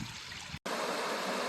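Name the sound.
water flowing at a twin waterfall on a canoe portage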